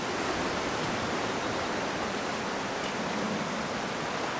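Sea water surging over coastal rocks makes a continuous, dense roaring wash, close and steady with no pauses.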